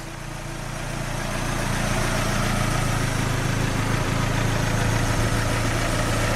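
A turbocharged Mazda Miata with a 1.8 Flying Miata turbo idles steadily up close, a smooth, continuous low engine hum with constant vibration and no voices.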